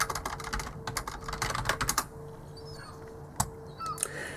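Rapid keystrokes on a computer keyboard clatter close by in quick bursts, then slow to a few scattered taps.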